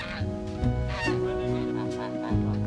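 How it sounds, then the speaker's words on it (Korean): Geese honk repeatedly at close range on a farm where they mingle with chickens, loud nasal calls overlapping in quick, uneven bursts. "그런데 닭들의 먹이를 노린 거위들."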